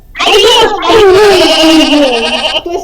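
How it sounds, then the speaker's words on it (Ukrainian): A recorded sheep bleat plays loud and close for a children's animal sounds guessing lesson, a long wavering cry broken by a short pause, then continuing in one drawn-out quavering note. "Звичайно, це овечка."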